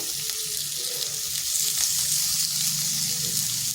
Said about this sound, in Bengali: করলাটা একটু সময় ধরে ভাজতে হবে।